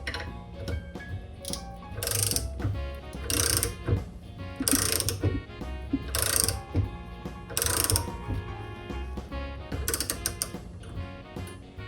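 A Fox air shock is tightened during a rebuild with a ratcheting tool, giving repeated bursts of clicking ratchet action in a steady rhythm, close and fairly loud, with no voices.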